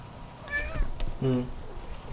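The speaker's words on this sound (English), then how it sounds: "It's my cat." A pet cat meows twice in close succession, the cries rising and falling, near and fairly loud in a quiet garage during a truck shackle and spring lift install.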